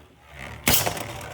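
A Beyblade Achilles launched from a launcher, a single sudden whooshing rip followed by a brief rattling spin settling at moderate loudness.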